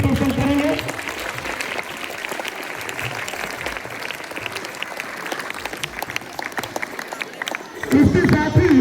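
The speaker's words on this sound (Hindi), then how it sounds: "तो बच्चे स्कॉट ताली से उनका रिप्रेजेंट करेंगे।" Schoolchildren clap together in a school hall for Ramanujan mathematics day, a sustained crisp round of many small hands lasting several seconds, framed by a speaking voice before and after.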